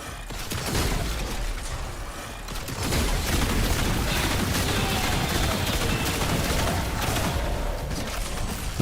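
Weapon fire in the video game Warframe: rapid, dense bursts of shots and crackling impacts that run almost without a break, briefly easing before resuming loud and continuous.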